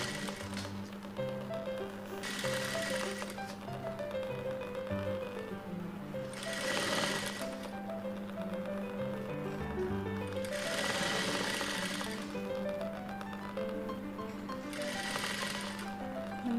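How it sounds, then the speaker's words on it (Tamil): Sewing machine stitching a blouse, its steady mechanical whirr running continuously with repeated bursts of faster stitching, close and fairly loud, with no talking. "இந்த மாதிரி கரெக்டாக மடித்து வச்சு தைச்சிடுங்க"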